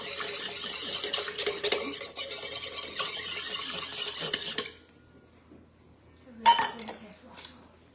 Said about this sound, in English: I'm gonna give it a good whisk.